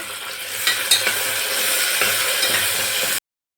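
Green peas stirred and fried in hot oil with bay leaf, star anise, cinnamon and cardamom for tomato bath, a steady loud sizzle with a few sharp spoon scrapes against the pan, then abrupt silence.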